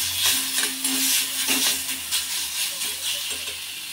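Eggplant filling being stirred and mixed in a hot pan, a soft continuous scraping and sizzling hiss with faint clinks of the spoon, close and steady.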